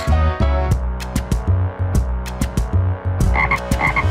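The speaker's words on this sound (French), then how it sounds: "Oui, une grenouille." Cartoon frog croaking inside a classroom vivarium, a rhythmic series of deep, loud croaks repeating about every half second over a steady musical background, with no talking.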